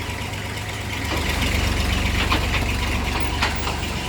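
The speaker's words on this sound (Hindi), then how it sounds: "बहुत बढ़िया ट्रैक्टर है" An old Massey tractor diesel idles close by with a steady low chugging throb that grows a little louder after the first second, then holds even. No one speaks.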